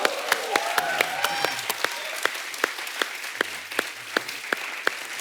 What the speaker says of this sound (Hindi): देखिए दूर तक गई हुई सब कितनी तालियां बजा रहे हैं आपके लिए।